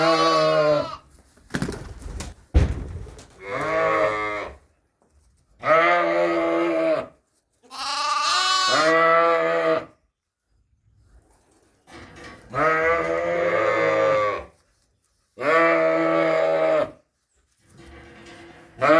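Dorset ewes in a lambing pen give a run of loud, close, drawn-out bleats, about seven calls separated by short pauses, some overlapping, with faint bird sounds in between.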